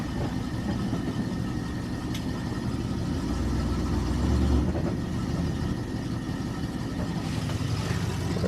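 An Oldsmobile car engine idles steadily with a low, even rumble throughout, close by and constant, with no voices.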